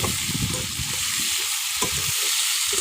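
Loud, steady sizzling of potato frying in a pan, with continuous crackle and occasional stirring scrapes throughout, no voices.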